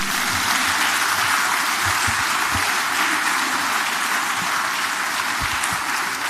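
A large audience at a Lagos Business School ceremony breaks into sustained, dense applause that stays loud and even throughout, with no voices standing out.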